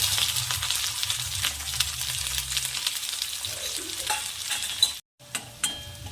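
Chopped onion dropped into hot oil with cumin and garlic for a bitter gourd curry, sizzling and crackling loudly up close while being stirred, then a short break before quieter frying resumes.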